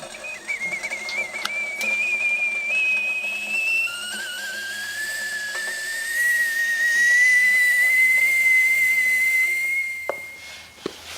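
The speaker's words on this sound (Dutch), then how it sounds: "En als dat water warm genoeg is, dan komt er stoom aan." Steam hissing from a kettle of heated water rises into a sustained whistle that slides upward in pitch and holds, fairly loud and alone, before cutting off near the end.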